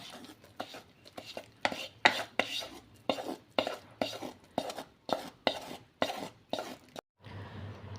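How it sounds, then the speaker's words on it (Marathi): Melted jaggery being stirred into a ground peanut mixture in a pan, a steady run of about a dozen sharp scraping, tapping strokes of a spoon against the vessel, close and clear, then a brief softer hiss at the end. "हे मिश्रण आपल्याला ढवळून घ्यायचं आहे"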